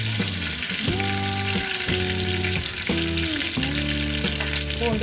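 Garlic sautéing in a pan with garam masala for pav bhaji, a continuous close, loud sizzle throughout with no talk, tonal hum layered beneath the frying.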